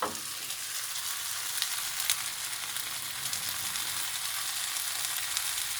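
Food crisps in a frying pan while a Cameroonian-style risotto is made with crushed Penja pepper, giving a continuous close sizzle with fine crackling and no pauses throughout.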